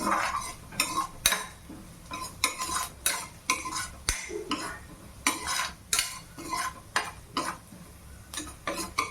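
Paneer bhurji mixture stirred in a pan, a spoon scraping and clinking against the metal in a steady rhythm of close, fairly loud strokes with no voices.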